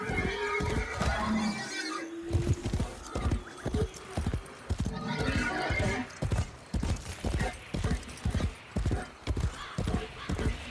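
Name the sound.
horse neighing and hooves in Warframe video game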